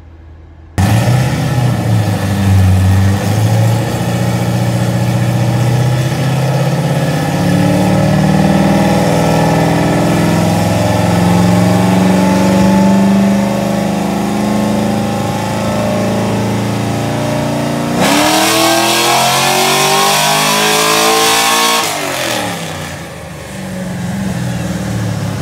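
A large truck engine of about 315 horsepower roars steadily at high revs on a dyno for about twenty seconds, pitch climbing then surging louder before winding down near the end.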